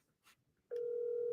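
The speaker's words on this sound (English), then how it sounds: "Oh, it's ringing." Outgoing phone call ringback tone, a steady electronic tone that starts suddenly after a brief quiet stretch and holds at a constant level to the end.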